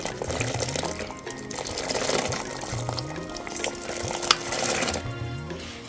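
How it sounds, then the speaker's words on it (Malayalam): Grapes drop into hot water and get stirred in a pot, giving soft liquid splashes and swirling sloshes with a few light knocks, moderately quiet and close. "ഇനി നമുക്ക് മുന്തിരിങ്ങ അതിനകത്തോട്ട് ഇട്ട് കൊടുക്കാം"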